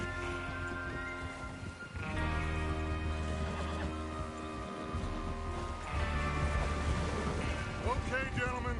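Horses in the Western video game Red Dead Redemption 2 neigh and snort in a gang preparing for a train robbery, with hooves shuffling, rain in the background and people talking over them.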